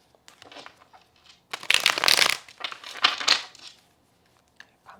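Oracle cards are drawn and laid out by hand, giving soft papery rustles and a few louder shuffling, slapping bursts clustered in the middle, with quiet gaps between.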